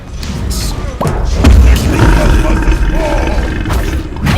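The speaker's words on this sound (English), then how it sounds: "This is what a fire giant fight looks like." A fire giant fight in the video game SMITE plays out as a jumble of game sounds: heavy thuds, roaring bursts and impacts close together over a constant busy rumble, with no speech.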